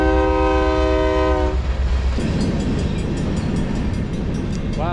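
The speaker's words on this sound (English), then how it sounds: "So I'm gonna have to wait on this stupid train." Freight train horn blares a long sustained chord near a Colorado bike route, then cuts off as the loud rumble and rhythmic clatter of passing rail cars takes over, with a brake squeal near the end.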